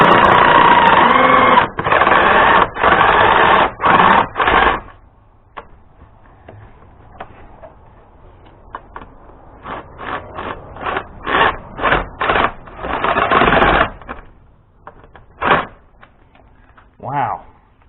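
Screws tightened on a K&N intake on a 2021 Jeep Wrangler 4xe 2.0 turbo, likely with a power driver: loud buzzing bursts in separate runs, some short and some sustained, with quieter handling noise between.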